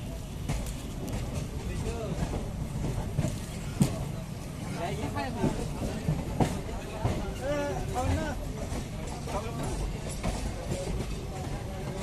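A Sealdah main line local passenger train near Barrackpore rumbles along steadily with clattering, rattling mechanical noise throughout, while someone talks over it.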